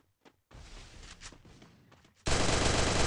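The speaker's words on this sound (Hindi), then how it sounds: "डोरेमोन का शॉट" Garena Free Fire gunfire crackles in a short burst, then turns into a loud continuous roar of rapid shots that fills the end of the clip.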